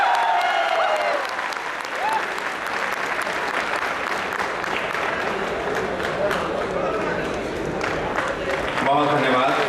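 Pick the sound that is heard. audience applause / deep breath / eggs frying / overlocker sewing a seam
audience applause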